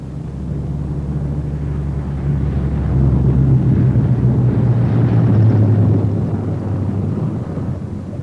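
A B-17 Flying Fortress bomber comes in to land with its left inboard engine dead, a loud, steady drone of piston engines with a low humming tone that swells slightly midway and holds for about eight seconds, with no talk.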